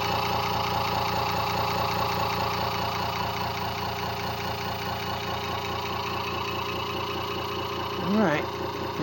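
A modified hoverboard BLDC motor, self-powered with six microwave transformers, idles with a steady, close mechanical hum and rhythmic pulsing throughout, with a brief rising whine near the end.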